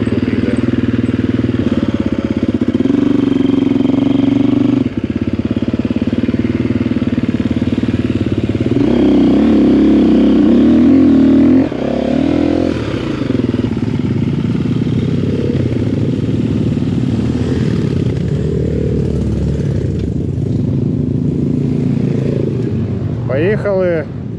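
A Yamaha Serow enduro motorcycle rides along behind a group of enduro riders, a loud steady engine drone with rising and falling revs, while people talk over it.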